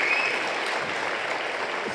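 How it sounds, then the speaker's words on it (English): Moderate audience applause at a school instrumental and art show, steady clapping from a seated crowd, fairly distant and even in level for the whole stretch. "Give them a big round of applause"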